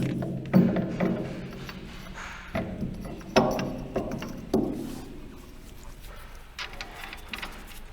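A nut is run onto a truck shock mount during a RAM TRX front spring swap, giving several clicking ratchet strokes that start loud and up close, then fade into quieter mechanical ticks.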